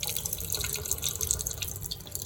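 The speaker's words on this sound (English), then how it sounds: "pour the juice off this." Juice from canned vegetables pours and splashes steadily into a sink, a continuous watery trickle with faint drips, close and moderately loud.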